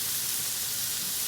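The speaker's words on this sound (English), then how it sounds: "Sizzle." Steak searing in a hot pan for a keto meal, giving a steady, hissing sizzle, close but fairly quiet, with no talk over it.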